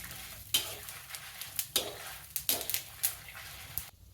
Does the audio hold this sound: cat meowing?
no